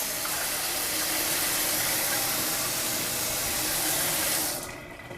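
A WOWOW kitchen faucet in pot filler mode pours a steady, loud stream of water into a sink, continuous and unbroken until it cuts off near the end.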